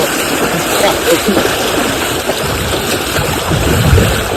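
Floodwater from a sudden flash flood rushes through a stream in a loud, steady churning roar close by, while a person talks over it.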